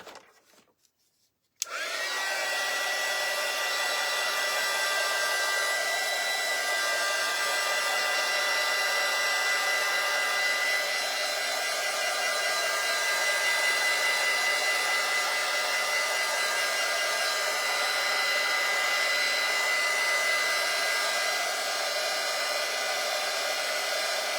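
A hair dryer switches on after a brief quiet moment and blows loudly and steadily for over twenty seconds, drying freshly stenciled paint in a farmhouse-style craft project, with no talking.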